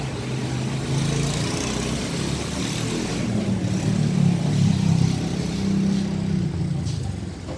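A car passing by on a street, a mid-pitched engine hum that rises and swells toward the middle and then eases off, fairly close and steady with no talking.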